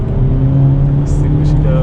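A 2023 Hyundai Elantra N's engine blips on a rev-matched downshift, a loud steady drone inside the cabin with a brief rise in pitch, heard from the driver's seat under road noise.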